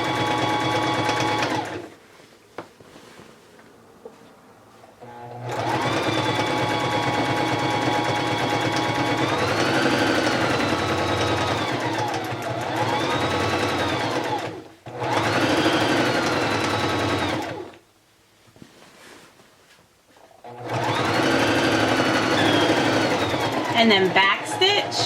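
A sewing machine runs a straight stitch down a fabric headwrap in long, loud bursts of steady whirring hum separated by short pauses, close by with no talk over it.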